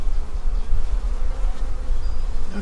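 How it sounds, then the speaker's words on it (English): Honey bees buzzing densely around a newly introduced queen inside a hive, a close, continuous, loud hum with no voices. "while some bees are smelling her"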